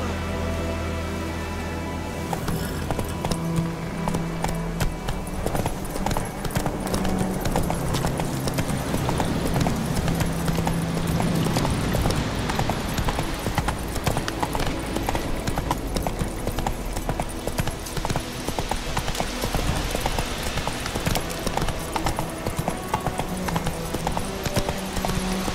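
Continuous rhythmic hoofbeats of a galloping horse in the video game The Witcher 3: Wild Hunt, steady and loud for the whole stretch with game ambience underneath and no talk.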